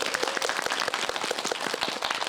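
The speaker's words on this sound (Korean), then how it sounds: "박수 한 번 더 부탁드립니다" A cinema audience at a Korean film screening and talk event claps for an actor, a dense patter of hand claps, close and continuous throughout.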